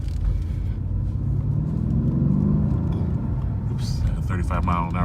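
A 2012 Mercedes-Benz CL63 driving, steady deep engine rumble and road noise from inside the cabin, loud and continuous, with a faint brief higher clunk near the end.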